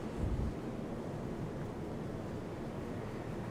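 Strong wind by the sea buffets a microphone with a steady dense roar, a heavier gust thumping at the start, with no voices over it.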